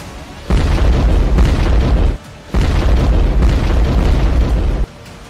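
The Kerch bridge linking Russia to Crimea explodes in news footage from October 2022. Two long, loud, roaring blasts start and stop abruptly, with a brief quieter gap between them.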